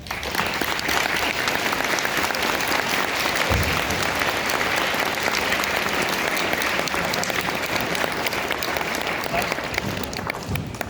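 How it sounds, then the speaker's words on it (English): An audience applauds after a Veteran's Day speech: thick, even clapping from a large crowd holds at a steady level throughout, with no pauses. "Let's hear it again for Lieutenant Colonel Stephen McNamara."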